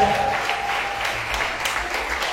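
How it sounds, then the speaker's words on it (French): Audience applause for a singer at a televised voice competition quarter-final, a dense steady burst of clapping that fills the short stretch at fairly even loudness. "est-ce qu'on peut l'applaudir s'il vous plaît?"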